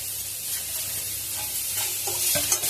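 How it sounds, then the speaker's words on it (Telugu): Finely chopped carrots fry in a pan with a steady low sizzle, and a spoon stirs and scrapes more noticeably near the end, close and without talk. "మొత్తం అంతా ఒకసారి కలుపుకొని బాగా ఫ్రై చేసుకోవాలి."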